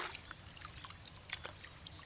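Water trickles and splashes softly while a banana sucker is rinsed outdoors, faint, irregular drips and dribbles close by with no talking.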